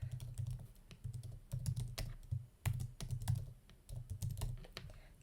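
Keys clack in quick, irregular bursts on a computer keyboard as an email address is entered, close and fairly quiet, with short pauses between runs of keystrokes.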